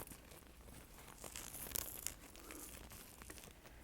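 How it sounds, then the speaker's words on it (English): Soft crinkling and rustling of a small pouch being handled close to the microphone at low volume in a quiet setting, with a few sharper crackles near the middle. "A little bit of pouch crinkling for you."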